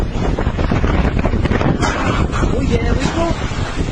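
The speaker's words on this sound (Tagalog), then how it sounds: "walang patid ang hangin at ulan na ibinubuhos ng bagyo" Strong typhoon wind and rain in Batanes roar and buffet a microphone in gusts, with rushing noise throughout and a voice faintly audible beneath it.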